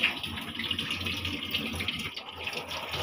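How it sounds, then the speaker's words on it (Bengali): Tap water runs steadily into a kitchen sink while meat is washed, a continuous close splashing rush with faint clatter and no talk. "এই যে এখানে আম্মুর মাংস ধোয়া হয়ে গেছে"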